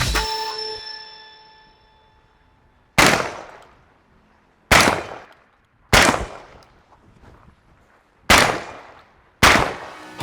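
Five loud, sharp gunshots from a gun fired for fun ring out alone at irregular intervals of one to three seconds, each with a short echoing decay, after a brief metallic ringing tone at the start.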